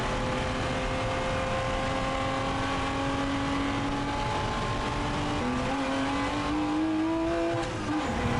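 Porsche Spec Boxster race cars battle around Laguna Seca, engines droning loudly and continuously with rising and falling revs as they run close together, no voices heard.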